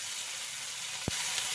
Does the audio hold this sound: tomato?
yes